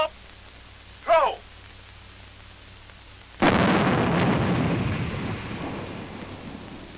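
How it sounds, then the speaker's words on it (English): A live hand grenade bursts on a practice range with a sudden loud boom that rolls off into a long fading rumble, after quiet background and a brief shouted voice. "The men are throwing live grenades for the first time."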